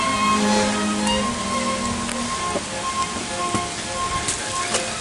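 Steady rain pours down over the crumbling remains of an old mountain resort, a dense continuous hiss with scattered drips and patters close by, no voices.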